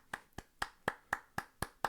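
Rhythmic hand clapping at a brisk, regular pace, eight clear claps of moderate loudness recorded close by, with nothing else heard between them.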